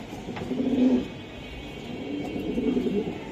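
Pigeons, including Chila birds, coo at a fancy pigeon seller's loft, with low rolling calls rising twice and fading, fairly close and steady.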